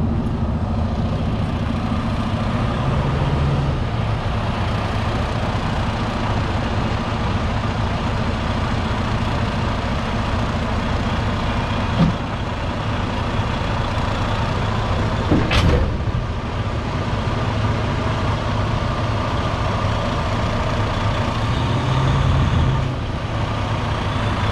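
A semi truck coupled to a trailer runs at a steady, loud diesel idle-like rumble as it tugs against the hitch, with a couple of brief clunks and a sharp air hiss midway through.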